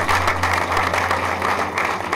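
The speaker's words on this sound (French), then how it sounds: "des applaudissements" Audience applause at a French-language student recognition ceremony, a steady dense wash of clapping filling the whole short stretch with no talk over it.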